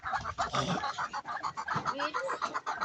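Chickens on a farm, kept alongside ducks and goats, cluck in quick repeated bursts nearby, with several birds overlapping in a busy, continuous chatter.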